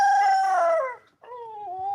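A rooster crows loudly and close by in two parts, a long falling call, a brief pause, then a shorter, lower trailing crow.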